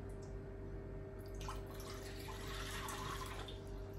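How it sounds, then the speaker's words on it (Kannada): Water is poured into a glass, a faint close trickle and drip over a steady low hum, with nobody speaking. "ಸೊ ನೋಡಿ, 1 ಗ್ಲಾಸ್ ನೀರು ಹಾಕೊಳ್ಳಿ."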